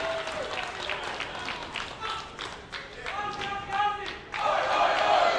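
Wrestling crowd at an independent show applauding with rhythmic clapping and a chant for an Australian wrestler, voices and claps rising into a louder cheer at the end.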